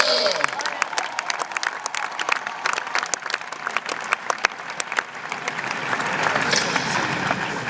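Congregation at a funeral service claps in dense, steady applause with crowd noise that stays loud and continuous, swelling slightly toward the end.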